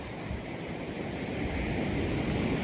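Pacific Ocean waves at Mount Kasila in Dinalungan, Aurora, on a fairly calm day, heard as a steady broadband wash of surf with some wind noise, continuous and moderately loud throughout.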